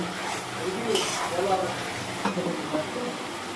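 A spice paste with green chili frying in a pan after a splash of water, giving a soft, steady sizzle with small bubbling pops, close and moderately quiet.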